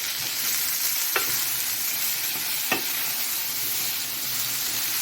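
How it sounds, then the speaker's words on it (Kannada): Shatavari herb stir-fried in a pan in Indian style, giving a steady soft sizzle with two brief scraping clicks from stirring, close and unaccompanied. "ಹೀಗೆ ಸ್ವಲ್ಪ ಫ್ರೈ ಮಾಡ್ಕೊಳ್ಳೋಣ."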